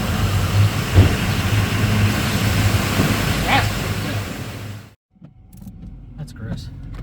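A 2004 Chevrolet K1500 Z71 pickup truck is driven, with a steady low engine rumble and road noise that briefly drops away near the end before quieter rolling sounds return.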